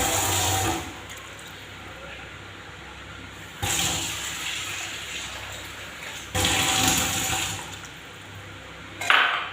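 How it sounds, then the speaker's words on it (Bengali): Water pours into a pot of cooking vegetable curry in three separate splashing bursts, each a few seconds long, with quieter kitchen background between them. "জল দিয়ে দিচ্ছি ঝুলের জন্য।"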